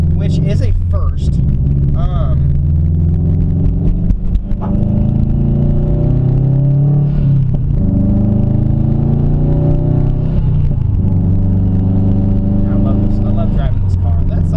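A loud Subaru STi with an aftermarket exhaust rumbles steadily at close range, its deep drone running continuously beneath someone talking throughout.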